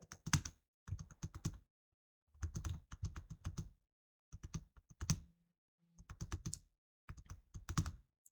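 Bursts of typing on a computer keyboard, quick clusters of close, crisp key clicks separated by short silent pauses, faint and alone.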